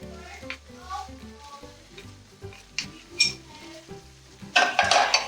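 Ground mace and nutmeg fry in a pan for a chicken biryani, with soft sizzling under repeated spoon scrapes and clinks against the pan, a louder burst of sizzle near the end.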